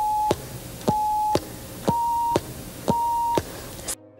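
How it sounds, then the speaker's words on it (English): A touch-tone telephone keypad sends a series of four DTMF dual tones, each a short steady beep of about half a second with a click at start and end, evenly spaced and loud. "each button on the keypad is associated with a specific pair of audio tones"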